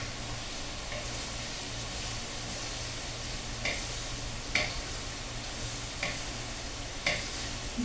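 Small shrimp paste, alamang, sautés in a pan with a steady close sizzle and a few light clinks of a spatula stirring it at irregular intervals, no talking.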